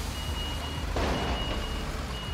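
A construction vehicle in Construction Simulator 2015 reverses with steady, evenly spaced beeps over a low engine drone, close and continuous.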